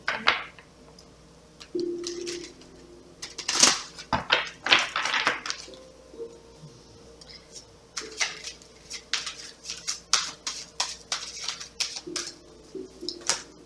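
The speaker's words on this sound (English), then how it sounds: "I feel like I need to shuffle." Tarot cards being shuffled by hand, giving bursts of soft riffling and slapping card sounds in irregular clusters, close and fairly quiet, with no talking.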